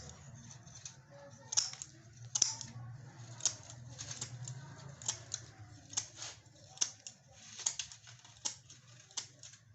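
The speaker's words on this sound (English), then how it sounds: "now cut from here with the scissor" Scissors snip steadily through cooler mesh while a Lahori cooler side panel is made at home, a series of faint, close clicks and crisp cuts in an uneven rhythm over a low background hum.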